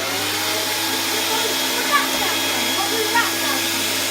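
An 80s Hoover Spirit S3261 upright vacuum cleaner runs its motor in a steady, close, unbroken drone with a couple of faint knocks in the background.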